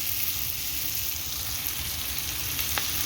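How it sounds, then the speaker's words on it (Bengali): Fish and potatoes sautéing together in a pan give a steady, dense sizzle that holds evenly from start to finish, with one brief clink near the end. "আর মাছের আলু কষা চলছে।"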